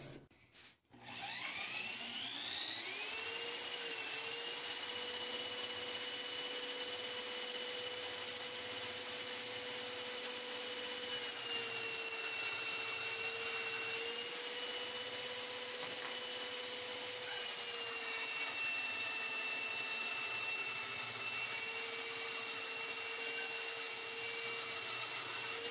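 A homemade bandsaw driven by a hand drill cuts through pine, its steady high whine and blade buzz running continuously and loud from start to finish after a brief spin-up, with no talking.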